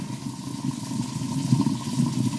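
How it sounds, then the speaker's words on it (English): Pasta cooking water poured from a pot into a strainer in a kitchen sink, a steady close rushing splash lasting throughout with slight surges. "I've grabbed my pot, and that's just how I like to do it. And I just pour it into the sink, into that"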